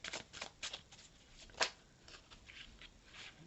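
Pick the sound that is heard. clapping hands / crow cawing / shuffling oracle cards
shuffling oracle cards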